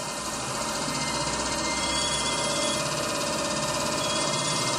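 A DC motor with a field rheostat spins up as its supply voltage is slowly ramped, giving a steady, loud, continuous mechanical whir and hum with a dense buzzing texture and no talking.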